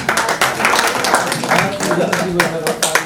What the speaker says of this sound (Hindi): आइए, तालियां होनी चाहिए भाई।